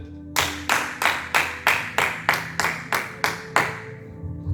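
A church congregation clapping in a steady rhythm, about ten loud unified claps evenly spaced, fading at the end.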